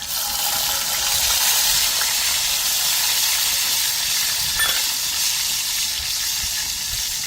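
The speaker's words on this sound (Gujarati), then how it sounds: "આપણે ચોપ કરેલું લસણ નાખશું." Chopped garlic dropped into hot oil for dal tadka, a steady loud sizzle and hiss that holds for several seconds, close up with no voices.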